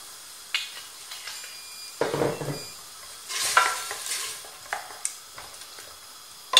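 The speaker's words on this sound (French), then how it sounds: "Et je fais colorer mes morceaux de viande dans ce mélange en fait." Pieces of lamb neck brown in a pot of grated tomato, onion and olive oil, with occasional stirring scrapes and soft sizzling bursts in a quiet kitchen.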